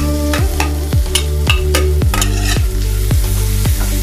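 Capsicum and carrot fry loudly in butter in a close pan, with repeated rhythmic stirring strokes scraping about twice a second over a constant sizzle.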